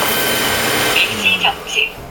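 A Twinboss S9 Pro Master robot vacuum cleaner runs a full cleaning cycle, giving a steady broadband whir with a few short electronic beeps or tones near the end.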